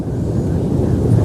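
Strong wind buffets the microphone on a very windy morning at a reef, giving a loud, continuous low roar with no breaks or voices.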